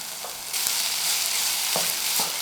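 Prawns sizzling in hot oil as they fry and caramelize for biryani, a steady close hiss broken by a few scraping stirs of a spoon in the pan.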